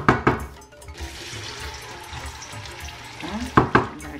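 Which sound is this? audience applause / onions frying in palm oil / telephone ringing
onions frying in palm oil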